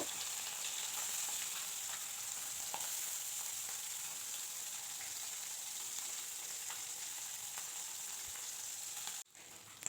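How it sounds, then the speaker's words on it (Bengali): Small puti fish fry lightly in hot oil, a continuous fine crackling hiss that stays steady and close for several seconds before cutting off abruptly near the end, with no talking. "প্রথমে আমি পুঁটি মাছগুলো ভাজা করে নেব"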